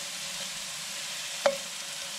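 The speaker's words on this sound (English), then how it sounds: "At the minute, I'm just frying up some mushrooms" Mushrooms frying in a pan for a stir fry give a steady, soft broadband sizzle throughout, with one brief louder clink or hiss midway; no voices.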